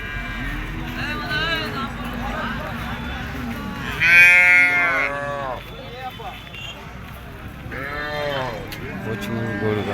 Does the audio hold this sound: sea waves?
no